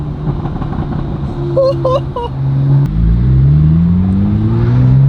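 A Porsche 911 991.1 C4S with its flat-six on the stock exhaust builds revs, first idling under faint voices, then surging loudly into a rising acceleration.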